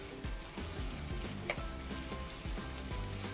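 Onions sizzling at half-cooked stage in a frying pan, a steady close crackling hiss with small pops throughout, no talk.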